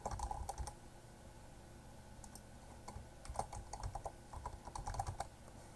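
Quiet, close tapping on a computer keyboard: irregular clusters of key clicks, sparse at first and then quicker and denser toward the end, with no talk.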